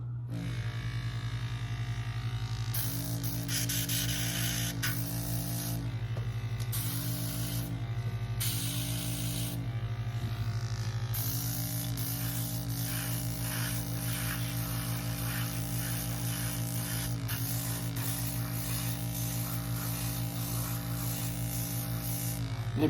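Spray paint is laid onto a custom G.I. Joe figure in light dust coats: short hissing bursts of spray, repeated several times, then a longer stretch, all over a constant low electrical hum.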